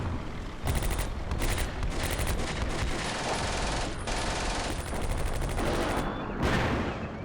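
Rapid machine-gun bursts and rattling rifle volleys from the Combat Mission: Beyond Overlord battle at Ranville crack loudly in repeated clusters across the whole stretch, with brief gaps between the strings of shots.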